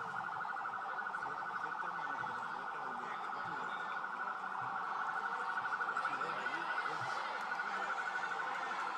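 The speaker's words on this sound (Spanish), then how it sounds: "Escuchen la sirena." Vehicles of a SWAT unit, four pickup trucks, sound their siren while passing in a 2024 Dominican military parade. A steady, rapidly warbling wail rises and falls at moderate distance over the murmur of the crowd.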